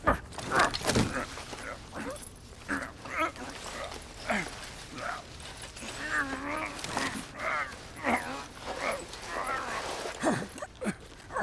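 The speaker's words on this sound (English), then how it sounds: "That street dog should have been put down long ago." A street dog in the video game Call of Duty Black Ops Cold War barks and whimpers repeatedly, close and fairly loud, in irregular bursts with breathy whines between them, with some voices mixed in.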